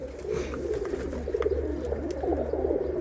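Male pigeons in a loft coo in low, rolling, repeated calls that overlap steadily through a quiet indoor space, close by and continuous with no talking.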